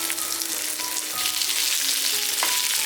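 Long-sliced onion sautéing in hot oil with fried chillies in a pan, a steady close sizzle with faint stirring scrapes throughout, no voices.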